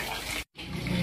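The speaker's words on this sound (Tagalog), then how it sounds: "Mama, si Junjun na pinaglalaroan yung tubig." A child playing with water, which sounds like a steady, close, loud rush of running or splashing water. It cuts out for a brief moment of silence, then resumes just as strongly, with no voices.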